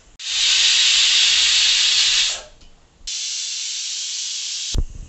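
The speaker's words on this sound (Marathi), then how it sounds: "कढईमध्ये लसूण पाकळ्या आणि सुकं खोबरं चांगलं काळसर लालसर असं भाजून घ्या" Garlic cloves and dried coconut roasting in a kadhai give a loud, steady hiss in two long stretches with a short break between, ending abruptly.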